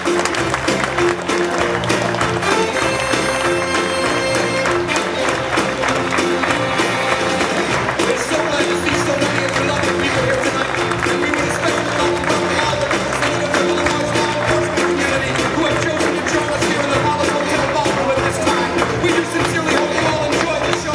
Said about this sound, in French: Je vous demande d'applaudir très fort la coiffure et le maquillage de vos candidats.